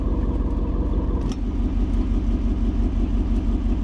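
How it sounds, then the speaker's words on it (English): Jeep Wrangler Rubicon 392 V8 from 2025 running with its exhaust valve open, a loud deep steady rumble throughout with no voices over it. "So you guys can hear how loud it is with the exhaust on."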